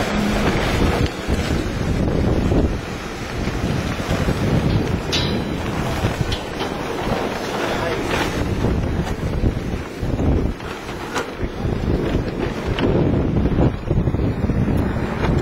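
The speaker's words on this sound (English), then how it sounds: "windy out here." Steady, heavy wind buffeting the microphone throughout, a continuous low roar with gusty rumbling and no voices.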